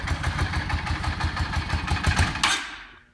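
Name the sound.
2004 Yamaha V Star 650 motorcycle engine idling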